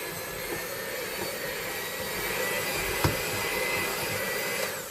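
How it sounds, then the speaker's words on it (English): A steady, loud electric hand mixer fitted with dough hooks kneads hot cross bun dough, whirring continuously, a broad motor roar with a brief click near the middle. "I'm going to use my hand mixer here with my little hooks on it"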